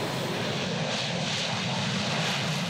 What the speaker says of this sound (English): The sheer power of the jet rattled ears as Major Joseph Bachman, an F-35 test pilot,